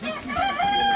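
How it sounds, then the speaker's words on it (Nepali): A local rooster crows close by on the way to a temple, its loud drawn-out call rising and holding for about a second, standing alone without talk. "ला लोकल भाले"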